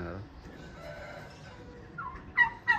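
A turkey gobbles among other poultry, giving two short, loud bursts near the end after a quieter stretch of faint background sounds.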